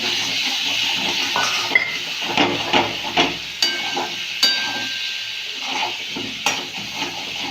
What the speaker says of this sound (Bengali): মশলা ভাজা হয়ে গেছে, তেল ছেড়ে গেছে। এবার আলুটা দিয়ে দিলাম।